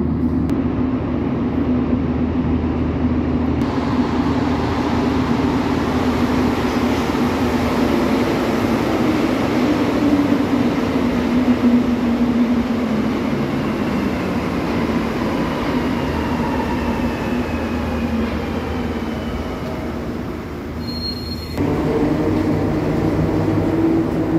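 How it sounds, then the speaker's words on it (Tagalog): A commuter train pulls into a downtown station, its steady rumble and rail noise rolling on throughout, loud and close, with brief squeals and a short dip as it slows. "Train is coming."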